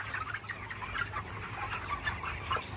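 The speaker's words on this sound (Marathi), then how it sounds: "हे बघा पोल्ट्री मध्ये आलो। ही पक्ष्याची जात" Chickens clucking inside a large poultry farm holding young birds, a busy overlapping chorus of soft clucks and chirps at moderate distance, steady and faint with no talk.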